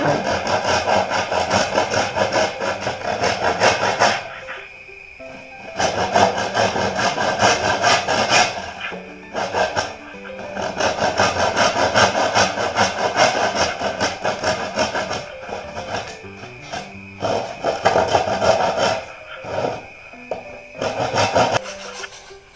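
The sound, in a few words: sawing bamboo to size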